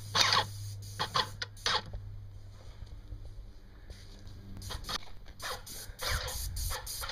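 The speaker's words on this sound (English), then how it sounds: "Just using a Titan 440 airless sprayer to apply it at a pretty low pressure." Titan 440 airless sprayer with a 310 tip at low pressure, applying H&C sealer in a heavy coat onto decorative stone, rock or brick; bursts of hissing spray start and stop in short trigger pulls over a low steady hum, close by.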